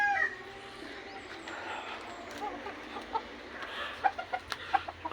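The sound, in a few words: backyard gamefowl rooster clucking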